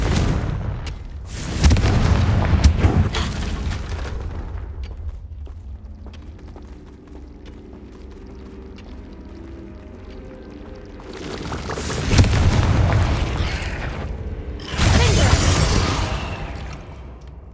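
Confringo fire spell blasts from the Hogwarts Legacy video game: several loud booming bursts, one early, then a quieter stretch, then two more heavy blasts close together near the end, with no talking.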